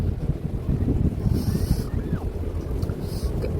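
Strong wind blowing hard across the microphone outdoors, a loud, steady low rumble with gusty buffeting throughout.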